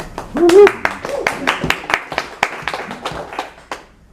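A small group claps in a loose, uneven burst that thins into scattered single claps and fades out at an indoor poetry reading, with a brief voice at the start.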